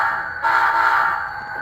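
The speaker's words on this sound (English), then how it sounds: "Now, if we honk the horn" A Walthers Mainline F40PH model locomotive fitted with a Soundtraxx Blunami decoder gives one sustained, steady horn blast. The blast sits close and loud and plays alone.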